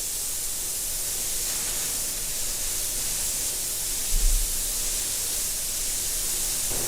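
A spray gun lays clear coat over a custom flame paint job in a steady, close, unbroken hiss of atomized paint, with one brief low bump partway through and no voices.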